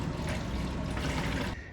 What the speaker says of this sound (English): And then you come out and pour it into your RV.